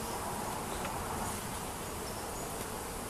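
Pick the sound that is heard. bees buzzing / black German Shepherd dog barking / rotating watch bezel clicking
bees buzzing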